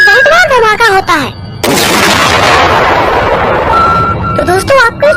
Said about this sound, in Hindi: जिसके कारण एक बहुत बड़ा धमाका होता है।